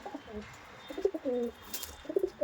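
Andhra Madrasi pigeons coo in soft, low, rolling bursts, a few calls overlapping close by in a loft against a quiet background.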